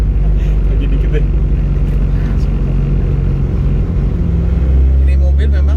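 A Honda Civic EG6 driven hard, steady loud engine drone and road rumble from inside the cabin, with people talking over it.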